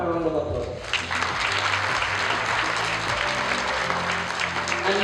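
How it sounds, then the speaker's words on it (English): Round of applause for fathers at a primary school graduation ceremony in Dow Village, a steady spread of clapping from the crowd that begins after a moment of voice. "Give them a round of applause."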